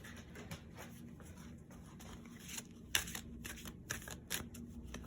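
Tarot and angel cards are shuffled and handled at close range, soft irregular flicks, slides and taps of card stock in a quiet room, without speech.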